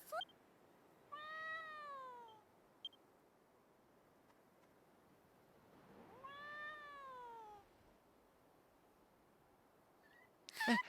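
A kitten in the video game Dragon Quest X gives two drawn-out, clear meows several seconds apart, fairly quiet against near silence, with a few faint clicks and a brief sound at the very end.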